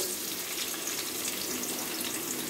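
Chopped onions frying in hot oil for an Andhra-style chana dal and fresh coconut curry make a steady, dense hiss with fine crackling throughout.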